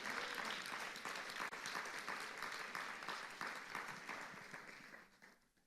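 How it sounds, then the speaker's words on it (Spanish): A church congregation breaks into hearty applause, with thick, continuous clapping from many hands in a reverberant room that tapers off toward the end. "Dale un aplauso al Señor."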